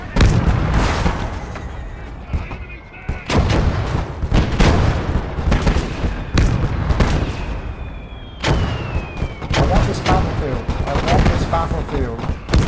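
A flak gun fires in a battlefield video game, with loud, repeated booming shots and bursts of gunfire that come in clusters separated by short lulls.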